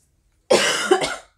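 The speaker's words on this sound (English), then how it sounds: "I can't stop coughing" A single close, loud cough, a harsh burst that breaks into a second push before fading, with silence before it.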